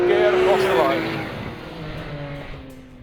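A Porsche 911 GT3 or Aston Martin V12 Vantage S climbs from second into third gear and crosses the line on soaking wet, near-freezing tarmac. The engine note rises sharply, then fades gradually as the car passes.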